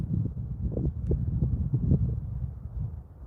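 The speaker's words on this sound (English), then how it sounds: "I don't want this wind to be out here distracting the broadcast." Wind gusting against a microphone outdoors, a steady low rumbling buffet that swells and dips throughout with a few faint rustles, loud and close with no voice over it.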